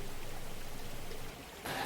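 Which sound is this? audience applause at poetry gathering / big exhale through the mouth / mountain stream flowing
mountain stream flowing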